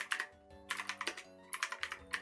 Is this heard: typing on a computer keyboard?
yes